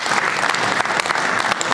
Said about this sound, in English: Let's give them a round of applause again, please.